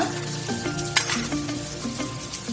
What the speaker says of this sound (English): ఇలా క్యాప్సికమ్ ఇలా బాగా ఫ్రై అయ్యాక